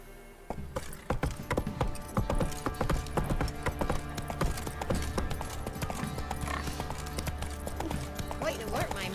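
A horse's hooves clip-clop on the ground in The Witcher 3 video game, a steady, close trotting rhythm that runs almost the whole time, with a faint whinny partway through.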